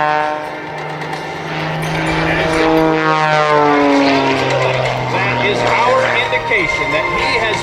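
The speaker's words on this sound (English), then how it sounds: "watch him slow the aircraft down" An aerobatic propeller aircraft slows down at the Planes of Fame airshow, its engine drone sliding downward in pitch, loud and sustained, while an announcer talks over it.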